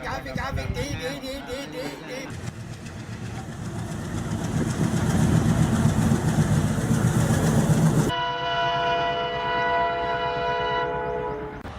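A train sound effect plays during a Tamil stage play: a horn toots and an engine rumbles and chugs steadily, loud and close, with voices and music mixed around it.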